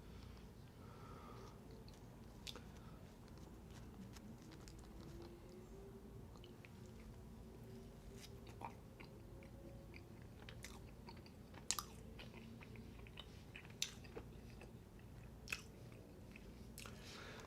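Someone chewing Pizza Hut pizza and pasta during an eating show: soft, close mouth sounds and occasional crunchy bites over a steady low background hum, with no talking.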